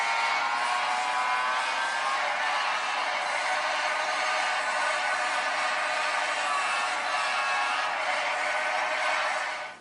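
Car engine roar from a racing video game played through a tablet's small speakers, a steady, thin, continuous drone throughout with no talking.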